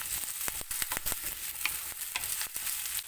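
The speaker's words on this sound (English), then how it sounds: "Finely chopped 1 onion, fresh curry leaves, saute in the oil for at least 3 minutes." Finely chopped onion and fresh curry leaves sautéing in hot oil, a steady crackling sizzle broken by sharp pops and spatters, close and clear with no talking.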